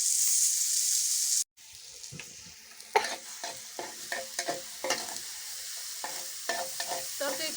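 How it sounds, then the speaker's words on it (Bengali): Bitter gourd fries in oil in a pan on a kitchen stove, crackling with a steady close sizzle under repeated scraping and stirring strokes after a short pause. "এখানে এই চুলায় করলা ভাজি হয়ে গেছে"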